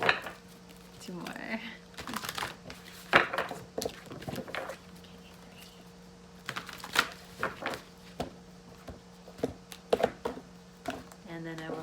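Tarot cards are shuffled by hand in bursts of soft papery riffles and taps, irregular and close, with a quiet voice speaking between the shuffles.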